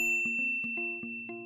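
A bright notification bell chime rings out several times in quick succession, each strike leaving a clear sustained ring over a steady tone.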